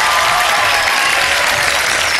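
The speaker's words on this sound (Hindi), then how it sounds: "अगर आप लोग तालियाँ बजा दें तो फिर मैं यहाँ से करूँ बाकायदा" Applause from a studio audience at a televised Ramadan sehri show, a dense, loud and steady wash of clapping from many hands with no break.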